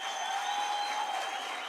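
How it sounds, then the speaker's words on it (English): Audience applause for a choir at the official opening of the National Arts Festival 2022, a dense, steady wash of many hands clapping close and loud, with no voices over it. "Another round of applause for our choir."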